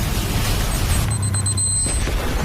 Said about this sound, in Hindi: यहाँ कभी भी धमाका हो सकता है।